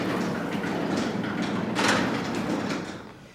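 Automatic garage door opener raising a residential garage door after its safety beam is broken, a steady motorized rumble and rolling rattle with a brief louder swell near the middle before it tapers off.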